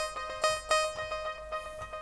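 A bright synth melody plays alone, plucky repeated notes in a steady rhythm with a sustained tone underneath, moderately loud.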